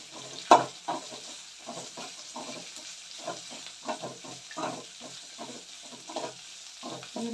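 Curry leaves frying crisp in hot oil for sambar, a steady close sizzle and hiss broken by repeated stirring scrapes in the pan.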